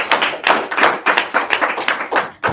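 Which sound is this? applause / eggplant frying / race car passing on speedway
applause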